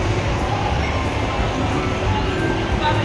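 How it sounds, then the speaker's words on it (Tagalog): A steady low rumble of a train arriving at SM North, continuous and fairly loud throughout with a dense mechanical hum and rail noise. "Ayan na, dumating na ang tren."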